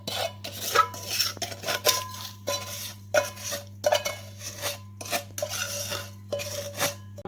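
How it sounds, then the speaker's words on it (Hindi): Sweet samosa stuffing scooped from a pan onto a plate: a run of sharp metal spoon clinks and scrapes against cookware, fairly close and irregular, with no talking. "अब हम इसे प्लेट में ऐड कर लेंगे।"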